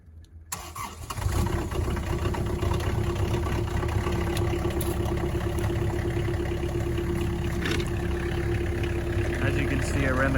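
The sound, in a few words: Kubota KX071 mini excavator diesel engine starting and idling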